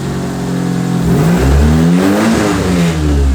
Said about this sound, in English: turbo spool